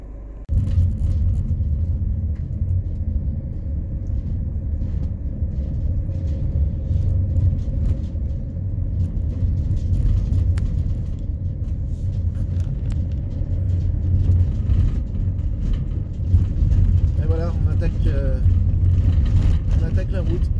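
Steady low engine rumble and road noise from a car driving a mixed route of cobbles, asphalt, potholes and mud, continuous and fairly loud throughout with occasional rattles.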